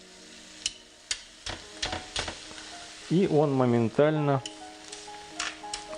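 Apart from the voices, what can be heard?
ribeye cap steak sizzling in a hot dry pan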